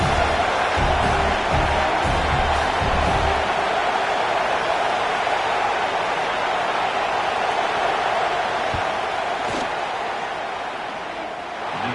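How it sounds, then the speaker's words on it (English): Stadium crowd noise in a college football video game as the field goal unit lines up on fourth down: a loud, steady roar sustained throughout, with scattered low thumps early on and no voices. "This crowd trying to do its part to get inside the kicker's head."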